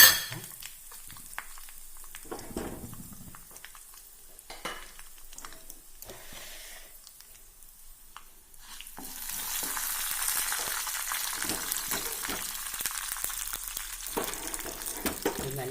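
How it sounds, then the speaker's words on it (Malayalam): Mustard seeds, fenugreek and dried red chillies hit hot oil for tempering a pumpkin pachadi. Quiet stirring and clinks come first, then a steady, loud, hissing sizzle takes over for the second half. "നമുക്ക് കടുക്, ഉലുവ, വറ്റൽമുളക് ഇട്ട് കൊടുത്ത് താളിച്ചിട്ട് വെക്കാം."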